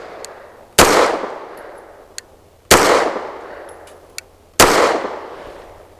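Three sharp, loud 9mm pistol shots from a Bolt Armory EDC with a 4.25-inch barrel firing 115-grain rounds, evenly spaced about two seconds apart, each with a ringing outdoor decay and faint metallic clinks between.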